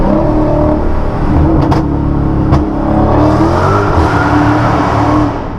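Dodge Hellcat engine roars loudly and steadily under hard acceleration, a close, continuous full-throttle growl with no talking.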